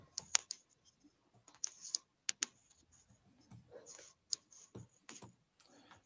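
Someone types code on a computer keyboard in quick, irregular bursts of light clicks with short pauses, close and quiet, with no talking.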